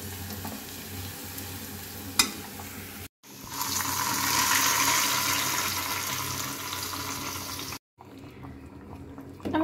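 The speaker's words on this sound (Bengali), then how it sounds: "আমার পেঁয়াজ রসুনটা ভাজা হয়ে গেছে, এখন আমি এগুলো খিচুড়ির মধ্যে দিয়ে দেব।" Hot fried onion and garlic tempering hits a pot of khichuri made with jujube and khesari lentils, a sudden loud sizzle that hisses steadily for several seconds before cutting off, after quieter kitchen clatter.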